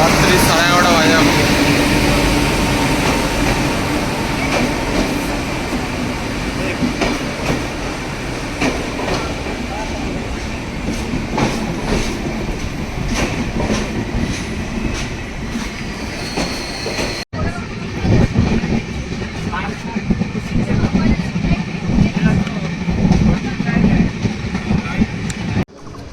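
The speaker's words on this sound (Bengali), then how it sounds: "কাঞ্চনকন্যা এক্সপ্রেস, এখন ট্রেনে চাপবো।" Kanchankanya Express passenger train running late at night, a steady rolling rumble of carriages with wheel clatter throughout, a brief break then continuing, with people talking over it.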